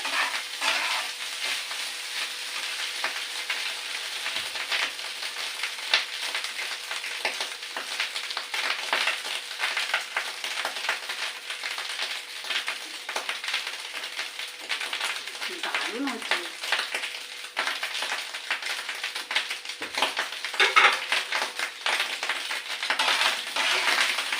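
Cooked rice sizzles and fries in a pan while being stirred continuously, with a steady crackling hiss and frequent scraping of the spoon, and a voice talking at times.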